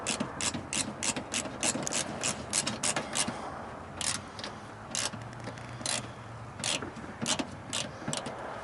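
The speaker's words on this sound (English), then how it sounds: "Grab your screwdriver and get the screw back in place so it doesn't come unclipped." Hand screwdriver driving a screw back into the bumper of an Acura TL, a series of rapid ratcheting clicks in bursts over a steady background hum, no talk.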